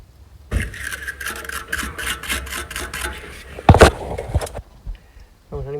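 A brush scrubs rapidly over the driveshaft bolts of a Nissan D22 pickup, giving a close, rhythmic rasping that runs for several seconds, with a louder scrape near the end before it stops.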